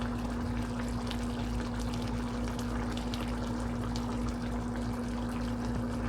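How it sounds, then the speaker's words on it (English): Seasoning poured into food cooking for a family, a soft continuous trickling pour over a steady low hum, faint and close, with no talk. "I just need to just pour a little bit of seasoning"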